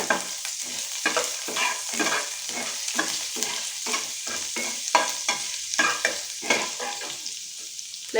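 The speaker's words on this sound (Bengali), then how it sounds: "এরপর এতে আমি যে রসুনগুলো কুচিয়ে রেখেছিলাম সেই রসুন কুচিগুলো আমি দিয়ে দিচ্ছি" Chopped garlic sizzles and fries in a pan of hot oil while a spoon stirs it in steady, repeated scrapes, close and fairly loud with no one talking.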